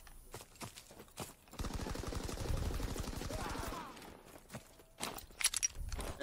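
Rapid bursts of gunfire crackle through a Call of Duty match, a dense sustained volley in the middle flanked by scattered sharper shots, loud against game ambience with no talk.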